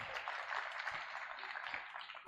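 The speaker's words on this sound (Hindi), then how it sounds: "इसके लिए सभी के लिए एक साथ तालियों से स्वागत" A school seminar audience of students' peers claps together, a faint, dense, even applause from a gathering heard at a distance, steady for a couple of seconds.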